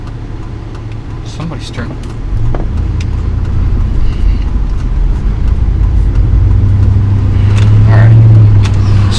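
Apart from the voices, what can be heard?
car driving through a hurricane-damaged area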